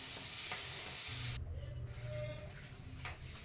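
Chopped onions sautéing in a pan for a chicken liver fry, a continuous soft sizzle with stirring scrapes throughout and a short quieter gap in the middle.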